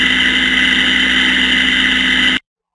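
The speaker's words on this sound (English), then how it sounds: "Now, if we listen to this machine, and this is all the vibration from this machine" Industrial machine with a failing, poorly lubricated bearing gives a loud, steady, harsh droning hum with a high whine, continuous and close for about two seconds before cutting off abruptly.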